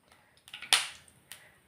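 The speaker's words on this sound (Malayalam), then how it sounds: "കടുകിട്ട് പൊട്ടിക്കഴിയുമ്പോൾ" Mustard seeds pop and crackle in hot oil in a kitchen while a curry is made: a string of small sharp pops with one louder crack, close and alone.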